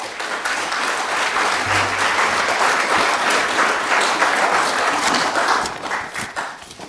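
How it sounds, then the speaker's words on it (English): Sustained applause from an audience at the 2023 Wairarapa Maori Sports Awards greets the award winners, with steady dense clapping for several seconds before it tapers off at the end. "let's give them all another round of applause"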